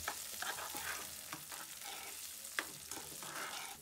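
Red peppers frying in hot oil, a steady close sizzle with scattered crackles and brief stirring scrapes, one sharper pop near the middle, no voices.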